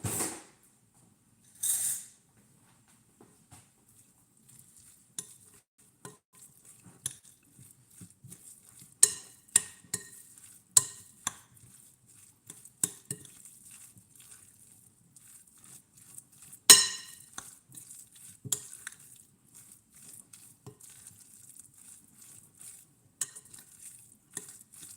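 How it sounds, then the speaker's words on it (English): Ground meat and about two tablespoons of barbecue sauce stirred together in a bowl for arayes, giving soft, irregular clinks and squelchy scrapes against the bowl at close range, with no voices. "And then you want to give this a mix."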